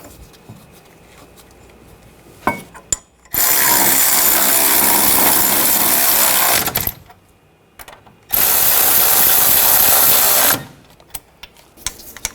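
A power wrench drives the caliper bracket bolts on the front brakes of a 2015-2020 Cadillac Escalade: two loud, close, steady whirring runs, the first about three seconds and the second shorter, with quiet gaps of handling between.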